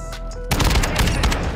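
A loud, close shotgun blast in a first-person shooter video game, a sudden dense roar that follows a brief quieter lead-in and holds for about a second.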